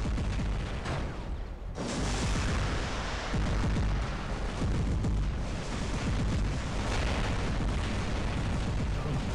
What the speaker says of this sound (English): now they're firing aphids at me too.